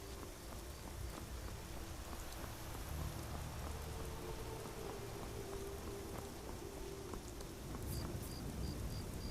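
Steady rain falls across a Skyrim funeral scene, a dense continuous hiss of drops on surfaces with low rumbling underneath and a faint repeated chime near the end, no voices.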